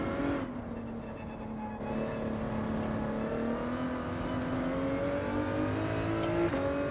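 Race car engine in Gran Turismo 7 on the Grand Valley circuit, a steady droning exhaust note rising gradually in pitch as the car accelerates, loud and continuous with no talk.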